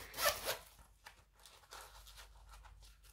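A zip closure on a transparent plastic budget envelope is pulled open with a loud, close rasp at first, followed by fainter rustling and zipping of the plastic.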